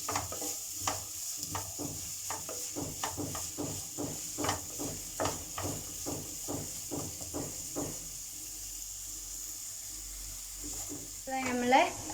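Sliced onions sauté in a pan under a constant soft sizzle, with a regular series of scraping stirs at a close distance and a brief clatter near the end.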